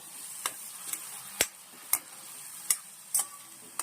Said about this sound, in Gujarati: એક ટમેટોની પેસ્ટ બનાવી છે એ આપણે એડ કરીશું અને સારી રીતે મિક્સ કરી લઈશું